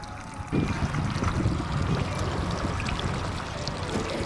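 A steady speedboat engine drone mixed with rushing water and wind buffeting on Thane Creek, constant and fairly close, with no voices.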